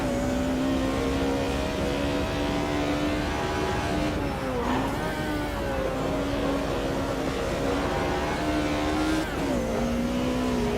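BMW race car engine in the Automobilista 2 racing game, a loud continuous engine drone that rises through the gears with brief dips on shifts and lifts, heard alone.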